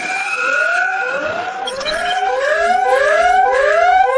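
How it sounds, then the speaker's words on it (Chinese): A loud electronic alarm siren wails in repeated rising sweeps, each climbing in pitch over about a second, sounding continuously and close with no talk. "这警报声咋又响了？"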